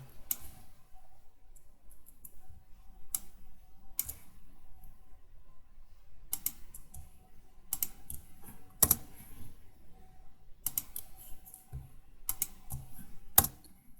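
Computer keyboard keys and mouse clicks tap out in scattered, sharp bursts at close range, with quiet gaps between clusters of strokes.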